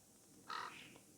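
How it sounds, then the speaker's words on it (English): Crows or ravens give a single short harsh caw in the game Fate/Grand Order, heard alone over a faint background. "Ravens? The crows?"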